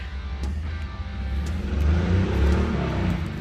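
A motorcycle engine hums and revs up as it rides down the street, ridden one-handed, growing louder toward the middle and end.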